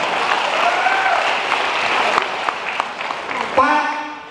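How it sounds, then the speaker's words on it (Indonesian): A seminar audience applauds a sales coach's point, with dense, even clapping that fades near the end as a voice starts speaking. "tepuk tangan buat bodoh amat ya"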